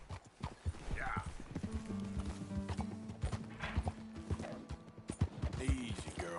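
Horse hooves clopping steadily in Red Dead gameplay while a horse is being broken in, with neighs and whinnies over the rhythmic steps and a busy game soundscape underneath.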